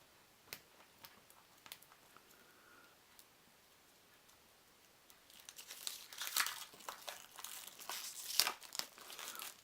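Cellophane wrapping crinkles and tears as a sealed 2002 Star Wars trading card starter deck is opened, a few faint early rustles giving way to loud, dense crackling up close.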